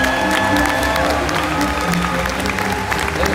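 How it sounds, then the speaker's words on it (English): A large audience claps steadily and continuously at a Star Wars Galaxy's Edge preview event, with dense rapid applause and a few scattered cheers filling a big hall. "Keep those applause going."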